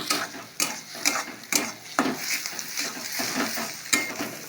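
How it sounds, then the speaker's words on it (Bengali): Egg and vegetables are stirred and fried in a pan for pasta: a steady sizzle under repeated sharp clinks and scrapes of a spoon against the pan, close and fairly loud. "নেড়ে ভালো করে ভেজে নেব ডিমটাকে।"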